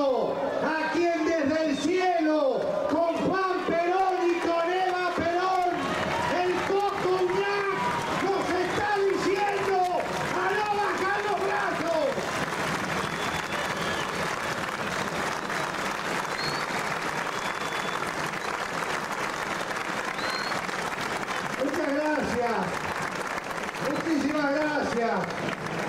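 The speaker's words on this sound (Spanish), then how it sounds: "le brindemos un minuto de aplauso" A large outdoor political crowd in Pocito gives sustained applause with cheering and chanting, a dense roar of clapping that continues for a long stretch while voices shout and chant over it.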